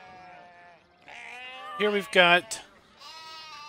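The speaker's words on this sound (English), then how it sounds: "we've got the animated sheep in here with the static sheep" Animated sheep in Farming Simulator 17 bleat twice in a row, loud and close, with someone talking briefly before and after the calls.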